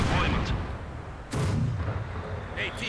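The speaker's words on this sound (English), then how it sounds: "But continued heavy mortar fire proves a peril here." Heavy mortar fire in the World War II strategy game Company of Heroes 2, with a dull boom landing mid-clip over a steady rumbling battlefield din.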